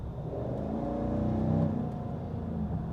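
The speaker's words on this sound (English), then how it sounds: "You can hear the upgraded exhaust back there" A 2024 GMC Sierra 1500 Denali pickup's deep, rumbling V8 with upgraded exhaust idles and swells into a throaty rev, steady and fairly close, with no voices.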